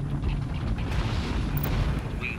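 Units open fire in the strategy video game Tom Clancy's EndWar, a dense, continuous rumble of booming artillery and explosions with no pause across the short stretch.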